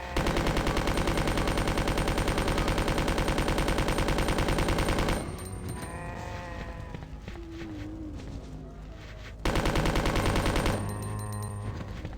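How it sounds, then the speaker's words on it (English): Rapid, steady automatic fire from the infinite submachine gun in Resident Evil 2 Classic, loud and sustained for about five seconds, then resuming in a second burst later amid game sounds and a short exclamation. "Infinite submachine gun."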